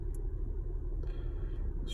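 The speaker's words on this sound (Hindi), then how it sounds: "क्योंकि काफ़ी गाड़ी में शोर होता है" Low steady rumble inside a moving car driving around Bowmanville, Ontario, a constant road and engine drone with faint higher hiss and a couple of brief light clicks.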